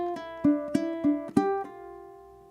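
Ukulele playing a single-note eighth-note run from a flamenco piece, about six quick plucked notes in an even rhythm ending on a ringing sustained note, close and soft with no talking.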